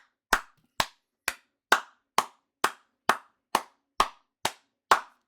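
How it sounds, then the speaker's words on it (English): Eleven single sharp hand claps at a steady, slightly slow rhythm, each crisp and close with a short decay and quiet gaps between, no other sound present. "What do you mean keep clapping?"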